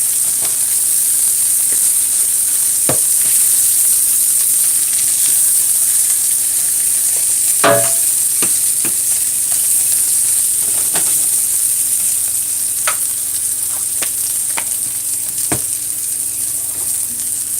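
Scallions sautéing in a hot pan while breakfast herring cooks, giving a steady, loud, close sizzle that runs the whole time, with a few sharp clinks of a utensil against the pan.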